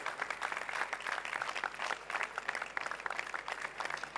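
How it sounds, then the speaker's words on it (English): An audience at a conference on work, health and wellbeing gives a speaker a round of applause, with many hands clapping in a lively, uneven patter that stays steady and fairly distant. "Ladies and gentlemen, please give him a big round of applause"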